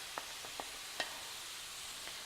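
Zucchini and chopped herbs cook in a pan, giving a soft, steady sizzle with a few faint clicks and taps of stirring spread through the brief moment.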